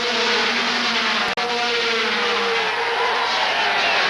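Thirty 500cc racing motorcycles launch off the grid at the 1992 Brazilian Grand Prix, a dense, loud wall of engine roar with rising revs, continuous for the whole stretch.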